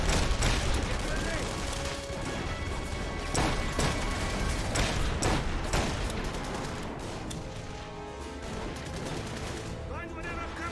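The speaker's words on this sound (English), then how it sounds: "What, you're shooting at me?" Dense gunfire from The Saboteur video game, with rapid overlapping shots and bursts running throughout amid a battle, loud and continuous, with a voice speaking over the shooting.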